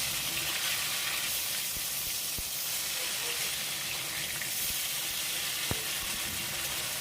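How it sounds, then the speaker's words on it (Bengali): Rui fish turned over and frying on its second side in mustard oil in a kadai, a continuous close sizzling hiss with a couple of sharp clicks from the utensil. "এখন পাল্টে আর একটা সাইড ভেজে নিচ্ছি।"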